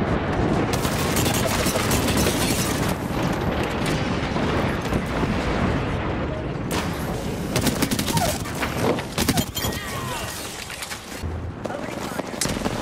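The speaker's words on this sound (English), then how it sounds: "Heads up, an airstrike on us" Airstrike in Apex Legends: continuous dense barrage of explosions and gunfire filling the scene, loud and chaotic with layered bursts, while players talk over it.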